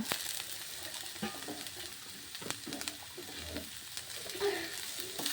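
Chopped cabbage tossed into a frying pan for chicken soup with carrots, a soft steady sizzle with crunchy stirring and scraping throughout, fairly quiet and close, no voices.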